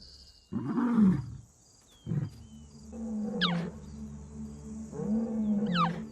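On the Naboisho plains at sunrise, a lion gives a series of deep roars and grunting calls, moderately close, broken by short pauses, with faint high sweeping calls from other animals in the background.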